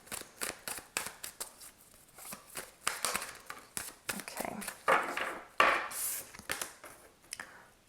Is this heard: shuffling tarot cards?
yes